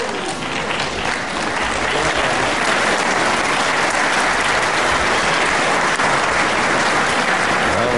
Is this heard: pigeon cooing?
no